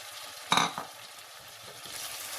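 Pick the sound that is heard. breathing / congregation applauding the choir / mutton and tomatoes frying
mutton and tomatoes frying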